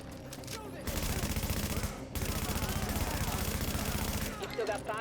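Rapid automatic gunfire rattles continuously in The Division, blind fire aimed down a hallway at NPCs, in two long sustained bursts with a brief break between them.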